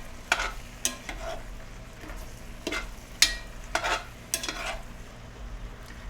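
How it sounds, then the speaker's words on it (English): Miso paste stirred into braised vegetables in a red wine sauce, a spoon scraping and knocking against the pot in irregular strokes over a soft sizzle, close and fairly loud. "So I'm just going to try to mix this miso paste in a little bit."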